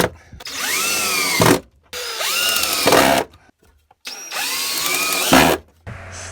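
A power drill drives screws out of a clamp in three separate bursts, each a loud rising whine that settles into a steady spin before stopping, with short pauses between.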